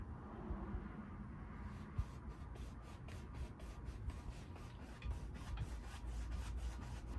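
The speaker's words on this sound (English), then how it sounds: "Right now I'm doing some crisscross strokes" Paintbrush dragged across canvas in crisscross strokes, a soft continuous rubbing scrape with regular strokes repeating steadily, close and quiet with no talking.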